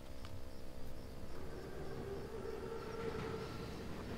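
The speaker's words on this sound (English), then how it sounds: "Train's right on time. Biggest train I've ever seen." A huge armored WWII train rumbles along the tracks in the video game Call of Duty: WWII, a steady rolling clatter heard at moderate distance, with faint insect-like chirps in the background and no talking.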